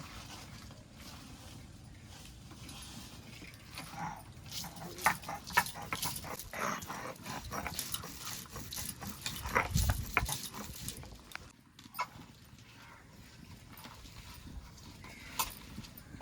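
Ginger and garlic being ground on a traditional grinding stone, rhythmic rubbing and knocking strokes that grow busier and louder midway, then ease off, close and without speech.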